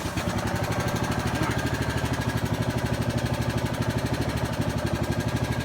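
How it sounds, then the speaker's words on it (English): The engine of a foundation pier lifting machine runs at a steady idle, a loud, even, throbbing chug with a regular pulse close by, continuing unchanged throughout with no speech over it. "So let's crank this machine and watch this lift."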